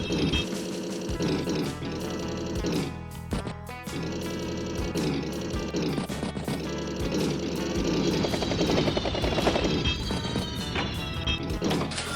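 Synthesized game music from Advance Wars by Web plays with a whirring battlecopter attack effect and bursts of weapon fire layered over it, loud and continuous.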